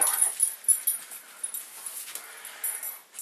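Dog whimpering close by, a series of soft, high, breathy whines and whistling yips coming in irregular bursts against a quiet background.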